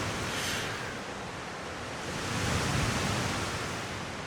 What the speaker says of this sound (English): Waves are definitely sounding a little louder.